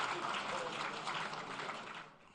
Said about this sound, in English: A round of applause for the President and the Vice President.